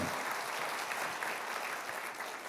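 A church congregation applauds during a sermon, a dense, steady wash of many hands clapping, fairly loud and continuous without pause.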